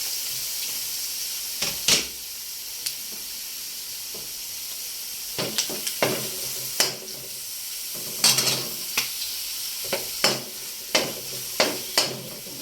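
Garlic and onion sautéing in hot oil give a soft, continuous sizzle, broken by repeated sharp clinks and scrapes of a spatula stirring in the pan. No one speaks.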